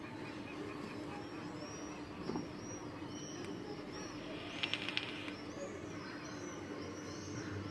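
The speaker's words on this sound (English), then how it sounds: "The crap ton of birds" Many pigeons or doves gathered outside a balcony, their soft cooing and calls forming a steady, moderately distant chorus over a constant outdoor ambience with a few brief louder chirps.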